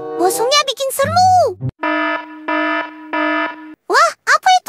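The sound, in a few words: alarm going off in Sakura School Simulator video game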